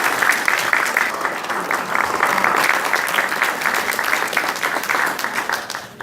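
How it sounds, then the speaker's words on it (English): An audience at a civic league meeting on Measure M breaks into loud, continuous applause, the steady clapping filling several seconds without talk. "how about a round of applause?"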